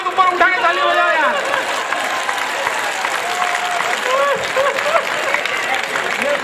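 Audience clapping at a Hindi comedy poetry recital, a broad burst of applause from the crowd that carries steadily throughout, with a voice talking over the start.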